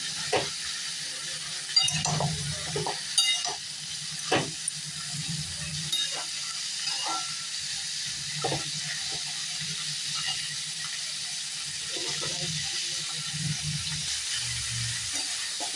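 Vegetables frying quietly in a pan, a low, even sizzle broken by scattered clinks and scrapes of stirring.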